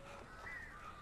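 Crows cawing in the Alan Wake video game, a faint, steady call that rises briefly in the middle of a second-long stretch and carries no speech.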